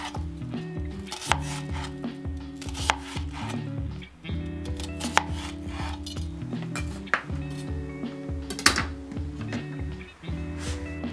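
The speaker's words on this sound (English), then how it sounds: "take half an onion and cut it into chunky pieces like this" Repeated knife chops cutting half an onion into chunky pieces on a cutting board, with clinks and scrapes, an uneven rhythm of sharp close taps and no talking.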